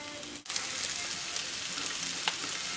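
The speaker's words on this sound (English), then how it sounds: "Put the peppers and onions on first." Peppers and onions sizzle in oiled pan for a vegan quesadilla filling, a steady close crackle with a short break near the start and a few sharper pops, with no talking.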